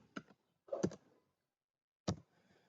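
Three quiet, crisp clicks of computer keyboard keys, two brief single taps and a short cluster in between, close up against near silence.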